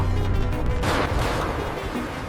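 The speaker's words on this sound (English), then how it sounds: "Two powerful SM-6 missiles launch vertically from the ship, slicing cleanly through the clouds." A powerful roaring blast of SM-6 missiles launching vertically from a destroyer, a dense loud rumbling rush that swells and holds without a break.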